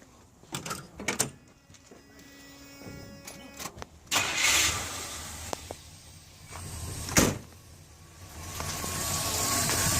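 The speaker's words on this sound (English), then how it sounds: "We have a running motor. Still a little cold." A car V8 fitted with an HEI distributor conversion cranks in scattered bursts, then catches and starts, settling into a rough, low idle after several clanks and knocks nearby.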